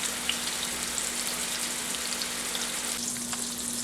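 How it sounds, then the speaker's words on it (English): Beef roast searing in a pan, a steady dense sizzle and crackle like rain on a surface, with a faint constant hum underneath and no talking. "So once we get this all seared up, then we're going to move it over to the crock pot."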